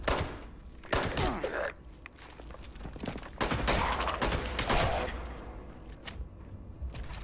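Gunfire from the video game Fallout 76 crackles in bursts and single shots at close range, mixed with thuds and some faint game noise.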